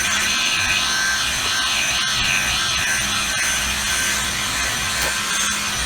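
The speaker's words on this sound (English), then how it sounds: "Now for the finishing touch, we will go with the polishing pad." A polishing pad buffs car paint with a steady, close whirring hum and faint rubbing texture, running continuously without any talk.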